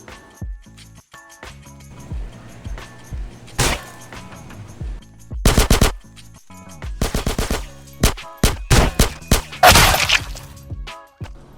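Bursts of rapid video game gunfire crack out in clusters with pauses between, loud and sharp, alongside a few single shotgun shots and a shattering impact during a store robbery.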